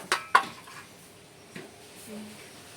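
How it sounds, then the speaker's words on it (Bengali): A lid goes onto a vessel of kneaded paratha dough with two sharp metallic clinks in quick succession, then a softer knock and quiet kitchen sounds. "এবার আমি আধ ঘন্টার মতন ঢাকা দিয়ে রেখে দেব। ঢেকে দিচ্ছি।"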